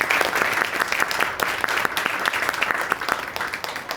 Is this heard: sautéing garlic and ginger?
no